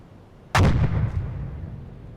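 A submarine deck gun fires a single high-explosive round in the naval game UBOAT, a sudden loud boom with a rumbling tail that fades over two seconds.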